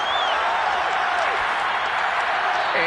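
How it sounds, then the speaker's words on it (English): Crowd applause in Madden NFL 22 rises as a steady, dense wash of clapping and cheering from a stadium audience, filling the short stretch at an even, fairly loud level. "We're going to give out a little applause on that play"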